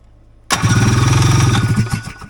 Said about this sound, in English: we got electric start